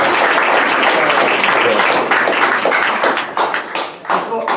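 A room full of people at a school board meeting claps loudly and continuously. Dense, close applause tapers slightly near the end, with some voices mixed in.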